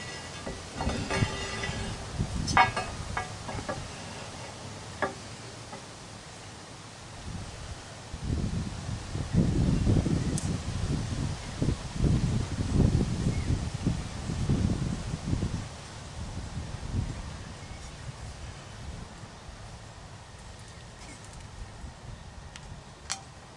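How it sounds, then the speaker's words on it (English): Wind gusts buffet the microphone outdoors in low rumbling surges, rising and falling, with a few faint ticks and rustles. "It's a little windy, so I hope the sound's alright."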